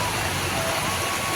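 Heavy rain pours in a steady, dense hiss, close and loud, with faint low rumbling underneath and no clear voices.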